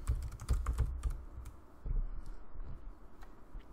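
Rapid keystrokes on a computer keyboard as a folder name is typed, a dense burst of close clicks followed by a sparser run of taps and a brief pause, with no talking.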